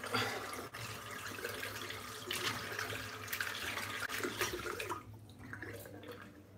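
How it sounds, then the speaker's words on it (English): Tap water runs steadily into a sink to rinse shaving soap out after a head shave. It makes a close, constant splashing flow that eases off near the end, with no voices. "Rinse the soap out."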